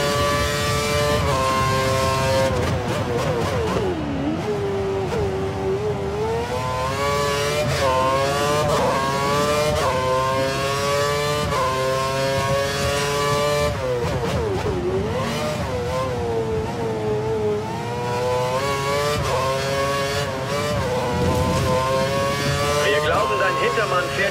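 Formula 1 car engines in the F1 2013 racing game, a Lotus at the Hungary circuit, rev loudly and continuously, their high whine sweeping up and down in pitch as several cars pass close together.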